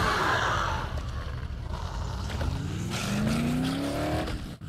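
A car in the zombie game Dead Island drives along with a steady engine rumble, then a rising whine climbs in pitch as it accelerates, loud and close, ending abruptly.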